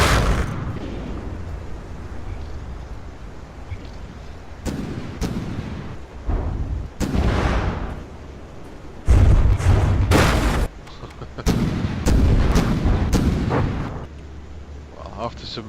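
Tank cannon shots in a video game: about a dozen heavy booming blasts go off at irregular intervals, some in quick pairs, loud and close over a quiet rumbling background.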